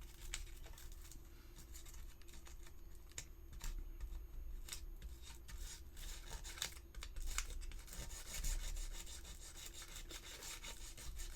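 Fine sandpaper works over the seamlines of a resin model kit in quiet, repeated rubbing strokes, a soft scratchy rasp that comes in short bursts, close by and low in level.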